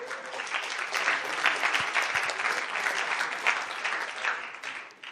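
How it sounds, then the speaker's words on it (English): A room full of conference attendees at a water, sanitation and hygiene session in Bonn gives a round of applause: lively, continuous clapping from many hands that stays strong, then tapers off in the last second. "that's a round of applause, I think"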